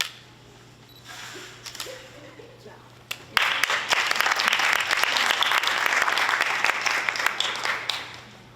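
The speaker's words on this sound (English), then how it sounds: "final round of applause for everyone" Audience applause fills a graduation ceremony hall, starting as scattered claps and swelling into sustained, dense clapping from a large crowd that holds steady for several seconds.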